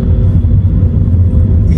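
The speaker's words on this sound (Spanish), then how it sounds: "Aquí vamos a acelerar un poquito" A Chevrolet Cavalier Turbo RS with a 1.3-litre turbocharged engine of 160 horsepower accelerates, giving a loud, steady low rumble heard from inside the car.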